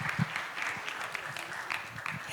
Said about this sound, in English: let's give a big round of applause to all of us right now.